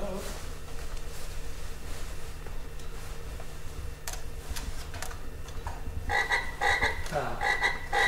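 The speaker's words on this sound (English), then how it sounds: "I don't know why that frog would go off" A frog device in a museum croaks in several short, rhythmic electronic bursts near the end, preceded by a quiet room with a steady low hum and a few faint clicks.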